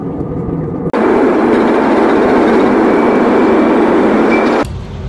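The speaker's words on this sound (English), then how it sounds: "About to get on this train." A loud, steady rumble of a train arriving or running nearby, a broad sustained roar that starts abruptly after a second and cuts off just before the end.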